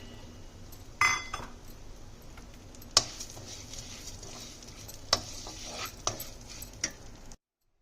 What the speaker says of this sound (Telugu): ఇప్పుడు అదే నెయ్యిలో కొబ్బరి పొడి కూడా ఫ్రై చేసుకుందాం.